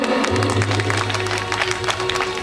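An audience at a live folk performance claps together in a dense, sustained burst of applause over a low droning tone, with voices faintly present underneath.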